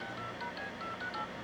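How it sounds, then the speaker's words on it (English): A cell phone keypad in the Family Guy cartoon beeps out a quick series of dialing tones, about seven evenly spaced short pitched beeps, clear and fairly close with no talking. "Phone's busted. Maybe I dialed wrong."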